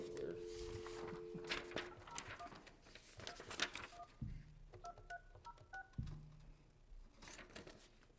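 An office telephone is dialed, producing a series of short beeping tones in quick bursts, with voices talking faintly in the room between presses.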